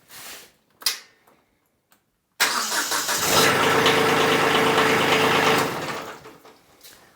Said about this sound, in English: Now I'm going to hit the boost button and see if it cranks even quicker.